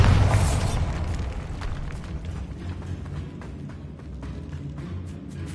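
Bombarda spell explosion in a Harry Potter video game, opening with a loud low boom that fades into a rumbling, crackling tail of debris.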